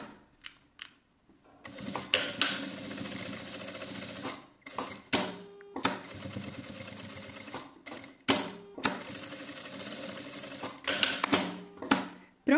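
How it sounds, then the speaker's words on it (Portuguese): A sewing machine stitches along the edge of a fabric piece for a children's garment, running in short bursts of rapid mechanical clatter with brief pauses between runs. "Agora eu vou fazer uma costura na bordinha dessa peça."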